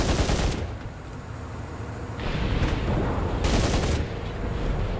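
Rapid gunfire and heavy cannon blasts from a War Thunder tank battle, featuring the T-54 (Mod 1949), crackle densely and loudly throughout, with sharper bursts near the start and in the middle, over a constant rumbling battlefield roar.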